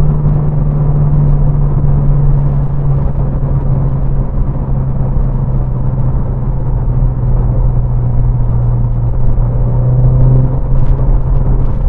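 A Renault Clio RS Trophy with a 1.6-litre turbo engine and EDC6 gearbox hums steadily from inside, a low continuous engine drone that dips and swells slightly as the car brakes and accelerates again.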